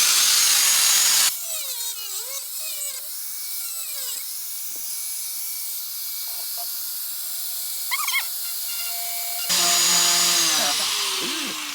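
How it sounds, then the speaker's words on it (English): An angle grinder cuts bolts off a wide body kit on a Fox Body Mustang with a loud, high-pitched metallic whine, dropping to a steadier grinding tone while it bites and rising again as the cut ends. "we decided that the grinder's a lot faster than screwdrivers"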